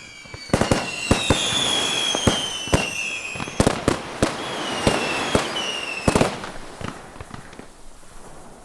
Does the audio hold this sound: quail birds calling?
no